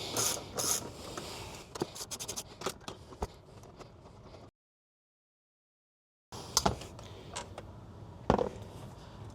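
Ratchet wrench loosening the seat bolts of a Rivian R1T pickup, quiet close bursts of rapid clicking and metallic scraping, a silent gap, then more ratcheting clicks and one sharper knock.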